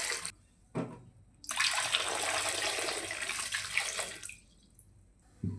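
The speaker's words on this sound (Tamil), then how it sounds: "கழுவி வச்ச உருளைக்கிழங்கு இப்போ குக்கரில் மாற்றிட்டு அதுக்கு தேவையான அளவுக்கு தண்ணி ஊற்றிக்கலாம்" Water pours steadily into a metal pressure cooker holding washed potatoes for about three seconds, close and loud, framed by brief clanks before and after.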